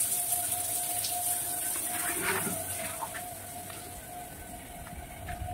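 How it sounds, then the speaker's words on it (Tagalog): Water runs from a coin-operated shower as a soft, steady spraying hiss with light splashing. It is fairly faint and constant, with a faint hum beneath it. "Malakas pa rin ang tubig na ibigay sa inyo."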